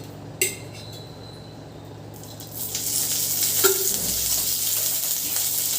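Green chillies drop into a little oil, and after a quiet start with a brief clink, a loud, close, continuous sizzle swells up and holds to the end.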